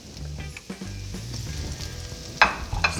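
Bacon bits being stirred into caramelized onions in a sizzling pan for bacon jam, a steady frying hiss under repeated scraping and clinking stirs, close and moderately loud with no talking.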